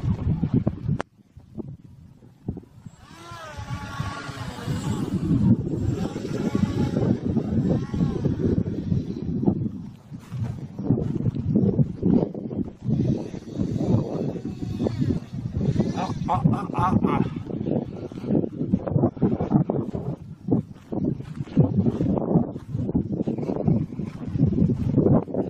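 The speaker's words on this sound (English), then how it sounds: "Yeah, it's windy." Strong, gusty wind buffets the microphone at an RC flying field, a continuous low rumble with shifting surges that runs throughout, with people talking intermittently over it.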